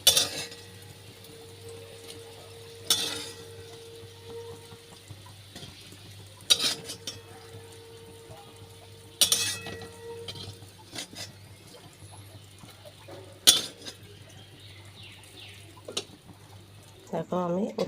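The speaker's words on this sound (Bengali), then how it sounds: "আমি উচ্ছেটাকে তুলে কিন্তু ডাইরেক্ট ডালের ভিতরে দিয়ে দিয়েছি, এটাকে মিলিয়ে দিচ্ছি" A spoon stirs fried bitter gourd into lentil dal in a pan, with scraping clinks against metal at intervals and a low steady hiss between them.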